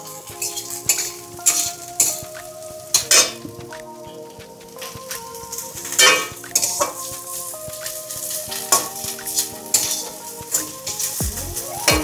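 Vegetables for restaurant-style vegetable fried rice are stirred in a pan: loud, close, repeated clanks and scrapes of a spatula ring out over a continuous sizzle.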